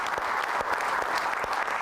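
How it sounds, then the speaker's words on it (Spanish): An audience applauds steadily for armed forces officers at a Venezuelan presidential broadcast event, a dense, even patter of clapping heard at moderate distance without talk. "Un aplauso para nuestros dignos oficiales"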